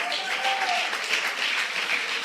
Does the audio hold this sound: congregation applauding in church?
yes